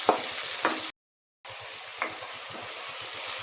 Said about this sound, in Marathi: आता आपण टोमॅटो टाकूया। व्यवस्थित परतून घ्यायचा आहे मंद आचेवर।